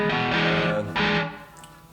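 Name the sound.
guitar through Brelliott Deluxe TODP valve pedal, bluesy overdrive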